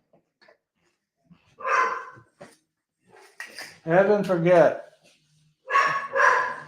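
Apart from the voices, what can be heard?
dog barking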